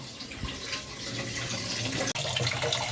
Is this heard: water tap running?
yes